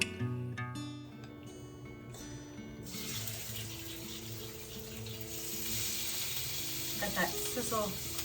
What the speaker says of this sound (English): Got that sizzle.